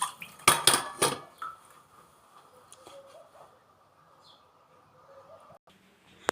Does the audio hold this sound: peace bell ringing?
no